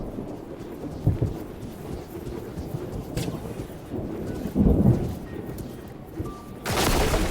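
Thunderstorm in the video game Mind Over Magic brings low rumbling thunder, with a couple of heavier booms and a burst of rain-like hiss near the end, steady in the background.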